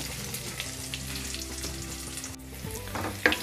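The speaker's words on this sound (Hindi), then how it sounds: "कैप्सिकम को भी मैंने 1 से 2 मिनट के लिए भून लिया था" Capsicum frying in a pan gives a close, continuous sizzle with intermittent stirring scrapes and a sharp clink of a utensil near the end.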